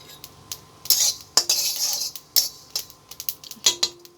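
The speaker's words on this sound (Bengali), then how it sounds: "গোটা কালো জিরা ভেজে নেব।" Whole black cumin is stirred in a hot wok, with a metal spoon scraping and clinking against the pan in irregular strokes and a faint sizzle beneath, close and fairly loud with no speech.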